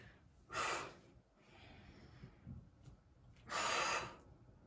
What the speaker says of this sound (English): breathing in to lower